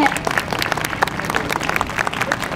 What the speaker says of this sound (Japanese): 林先生にもう一度大きな拍手をお送りくださいませ